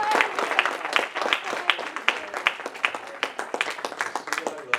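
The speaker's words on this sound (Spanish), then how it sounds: "Dale un aplauso si lo crees en esta hora." A church congregation claps during a Spanish-language sermon, producing a sparse, uneven patter of individual hand claps at moderate volume that pulses irregularly throughout.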